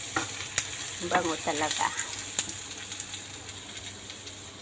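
Garlic sizzling in a pan for Ilocano pinakbet, a steady faint frying hiss with a few sharper crackles, while a person speaks briefly over it.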